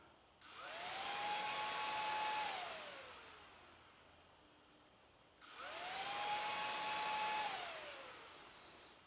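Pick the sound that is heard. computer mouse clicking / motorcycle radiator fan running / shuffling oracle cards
motorcycle radiator fan running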